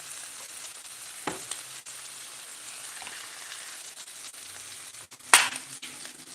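Italian sausages fry quietly in a pan, a soft steady sizzle broken by a few sharp clicks and one louder scrape of turning near the end.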